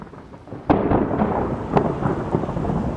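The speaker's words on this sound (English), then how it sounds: "Then it started to rain." A sharp thunderclap breaks out partway through, followed by a steady wash of rain with more rumbles rolling in, loud and close throughout.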